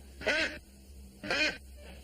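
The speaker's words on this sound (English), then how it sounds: "What's the duck doing on the table?" Duck quacking indoors, two separate raspy quacks about a second apart, close and clear, with nothing else happening in between.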